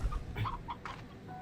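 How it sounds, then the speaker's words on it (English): A chicken clucks in the video game Slime Rancher 2, a few short, clear clucks in quick succession, close and moderately loud. "I want to go put this chicken in the coop so it can create more chickens."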